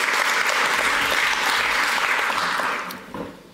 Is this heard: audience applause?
yes